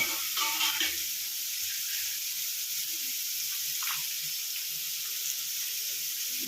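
Ingredients sizzle in an oil-filled pan for avalakki bath, including capsicum, with a steady, loud hiss and occasional small pops throughout and no talk.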